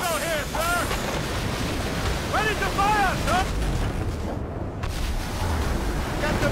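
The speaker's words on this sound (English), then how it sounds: "Wind's getting vicious." Wind and sea waves in the Assassin's Creed Rogue video game make a steady, dense rush of gusting air and surf throughout, while voices shout over it in brief bursts.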